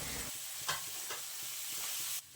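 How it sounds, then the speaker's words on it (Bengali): Small-cut potatoes frying in fish oil in a pan, a continuous loud crackling sizzle with a few stirring scrapes, no voices. "তেলটা ভালোভাবে ভেজে নেওয়ার পর দিয়ে দিচ্ছি কেটে রাখা আলুগুলো"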